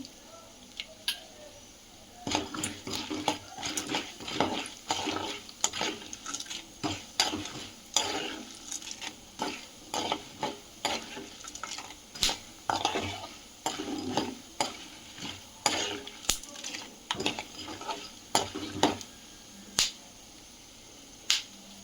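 A spoon stirs poha upma frying in a pan, giving scattered scraping and tapping clicks over a soft background sizzle, close and fairly quiet.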